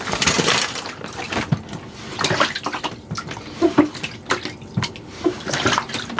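A shower runs inside a parked camper van, with water splashing and spattering unevenly onto a person and the shower tray in loud, irregular bursts, very close.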